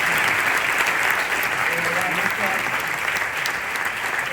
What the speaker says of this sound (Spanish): un gran premio también en forma de aplauso para el jurado